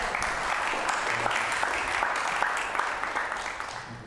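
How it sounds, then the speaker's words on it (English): A community festival audience breaks into sustained, dense applause for a man on stage, holding steady and tapering slightly at the end. "Give him a round of applause, ladies and gentlemen."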